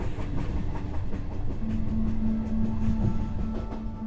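Tourist forest train in Taiwan's old logging forest running along its rails, a steady near rumble of wheels on track with faint rhythmic clacking and a sustained hum, no voices.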